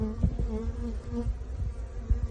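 A honey bee swarm buzzing on hive frames up close, a dense continuous drone with individual bees humming in and out, no talking.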